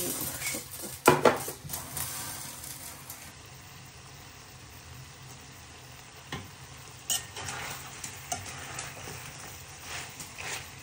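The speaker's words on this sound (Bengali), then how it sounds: "বিরিয়ানির জন্য মাংস রান্না করছি।" Meat for biryani frying in ghee in a pot on a stove, a soft steady sizzle underneath with occasional sharp clinks and scrapes of a utensil against the pot, no talk.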